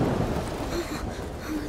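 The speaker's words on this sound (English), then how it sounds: "It's just a storm." Thunderstorm in A Plague Tale: Requiem, a dense wash of rain with a low rolling rumble of thunder filling the short stretch, fairly loud and continuous.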